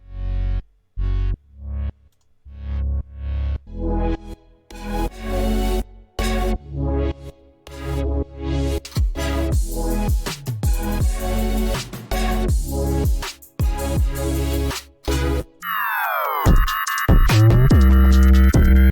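A future bass supersaw synth runs with compression on the bass group: loud, thick, distorted chord stabs in a choppy rhythm over a heavy low end, ending in a sweeping pitch-bent swell, with no voice.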